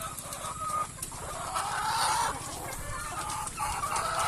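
Layer hens on a farm cluck and murmur close by, a busy overlapping chatter of several birds with rustling in the background.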